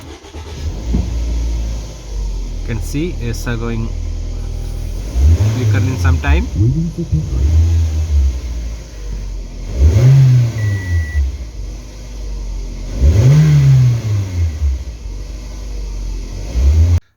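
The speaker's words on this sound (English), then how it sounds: "You can see we're going to start the car." A Toyota Estima with a 2AZ-FE 2.4L engine and a flickering oil light is cranked and started, then revved up several times in loud, close bursts while someone talks over it.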